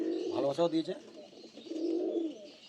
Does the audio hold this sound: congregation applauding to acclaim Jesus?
no